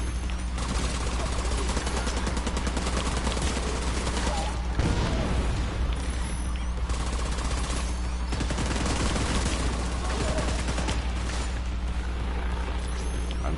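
Deployed turrets in The Division 2 fire dense, continuous automatic bursts amid a loud game firefight, rapid rattling shots layered over a constant low drone with occasional heavier thuds.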